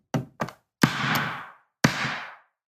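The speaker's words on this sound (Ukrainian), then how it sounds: "Давайте спробуємо вдарити його об стіл і подивитися, чи він спрацює." Two light knocks, then two heavier thuds of an FPV drone detonation initiator against a table, each ringing briefly before fading. Nothing else is heard.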